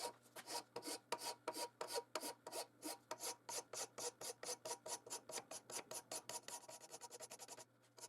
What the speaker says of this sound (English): Here the first side is rough filed